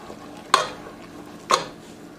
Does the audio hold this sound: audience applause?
no